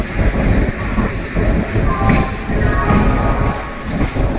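A Goghat local train pulling slowly out of Howrah platform on a foggy morning, giving a loud, steady rumble with faint wheel clicks and brief metallic squeals.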